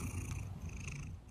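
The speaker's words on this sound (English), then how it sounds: "And what about the purring?" A kitten purrs up close in a steady, low rhythmic rumble that continues without pause, alone and fairly quiet.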